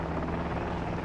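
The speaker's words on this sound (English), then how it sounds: "I hear a chopper on the right, I assume it's friendly." A military helicopter in Modern Warfare 2 drones steadily nearby, a continuous low rotor rumble with no pauses across the brief moment, no talking over it.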